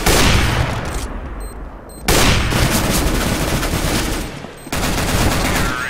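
Gunfire in the CS:GO video game: loud close bursts of rapid automatic shots in three separate volleys with short gaps, each cutting off sharply, no talk over them.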